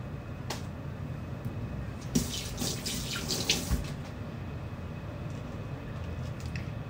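Water runs from a tap for handwashing before eating by hand: a steady, fairly soft hiss with a louder splashing patch in the middle, and no voices.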